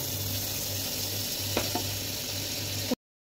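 Butter sizzles in a pan ahead of chicken soup, a steady close hiss with a faint low hum and a couple of light clicks, cutting to silence just before the end; no talking.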